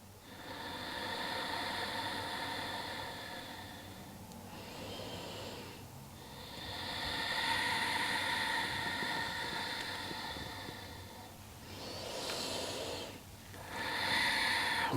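Slow, deep breathing during a yin yoga pose, long drawn inhales and exhales in a gentle rising and falling rhythm, close and soft, no voices.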